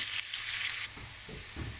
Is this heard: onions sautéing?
yes